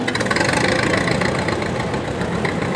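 A 1909 Buick brass-era car engine running close by at a Great Race event, a steady rapid chugging idle with a knocking, uneven pulse and no talk.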